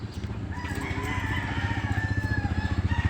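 Rooster crowing with a drawn-out call on a seven-hectare farm, accompanied by rapid clucking from nearby chickens, close and clear.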